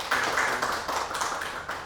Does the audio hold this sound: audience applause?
yes